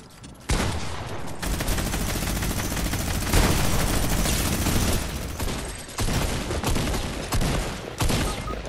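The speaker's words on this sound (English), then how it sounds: "Drum gun." A drum gun firing in a video game, a long loud continuous burst of rapid shots with short breaks between bursts, close and dominant with no talk over it.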